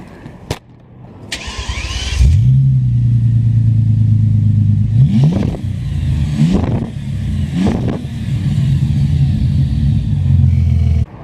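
A Bentley GTC engine starts with a quick crank and settles into a loud, deep rumbling idle, close by, with two or three sharp revs partway through before dropping back to the steady idle.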